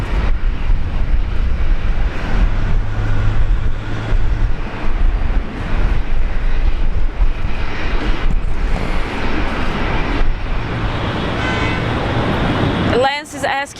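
Airliner landing on runway 01 right at Brisbane Airport, heard as a loud, continuous roar that builds and holds through most of the stretch before cutting off abruptly near the end.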